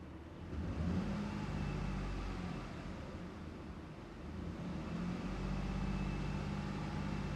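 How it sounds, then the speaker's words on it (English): A 2012 Jeep Liberty engine revs with a steady, fairly loud idle that rises into two swells of increased revving. There is some wind-like rumble and no talking. "Let's give it a little rev."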